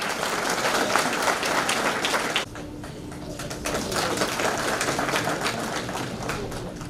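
Loud applause from an audience at a ceremony honouring a newly appointed state minister and a current pradhan, dense clapping that drops slightly after a couple of seconds and carries on steadily, with faint bird calls in the background.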